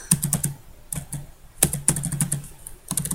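A formula is typed on a computer keyboard as crisp, close key clicks arrive in quick bursts separated by short pauses.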